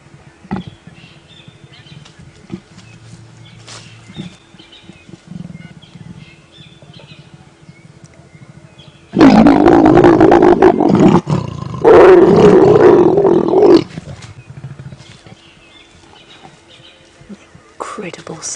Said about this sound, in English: Incredible sound effects that accompany a leopard mating.